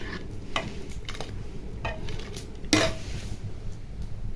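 Spices sizzle in hot oil on a clay stove, with scattered clinks and scrapes of a spoon against a pan, one sharper metallic knock partway through.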